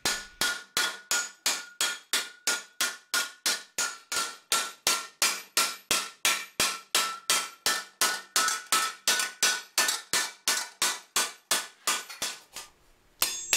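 Rapid, evenly spaced hammer blows on a steel armour poleyne during a raising pass, dozens of sharp metallic strikes in a steady rhythm, close and loud with ringing tails, no talking.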